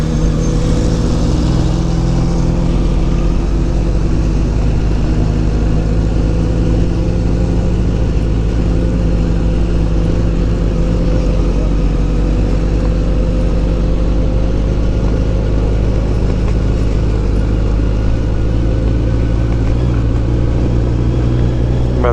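A motorcycle ride on a road through the Lifosa hills in Lithuania, the engine droning steadily with a low, constant hum and wind rush throughout, no talk over it.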